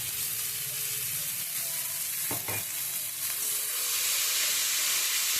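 Black cumin spice paste frying in oil in a pan for a katla fish curry, a loud continuous close sizzle and hiss, briefly interrupted midway by a quick clatter of stirring, with no talking.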